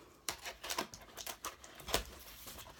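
An Inkwell Press package being cut open, a run of short crisp snips and scratchy tearing of paper or plastic packaging, close and fairly quiet with no talking.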